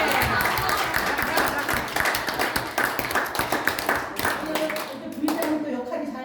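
An audience at a talk by a provincial council vice-chair applauds, dense continuous clapping from a room of people at moderate distance, tapering off near the end as talking resumes.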